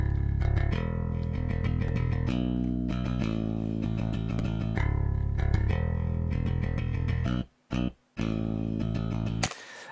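Virtual bass from Submission Audio played back as a clean DI track, a close, dry electric bass line of rapid repeated notes with steady rhythm, briefly dropping out near the end, alone with no talking.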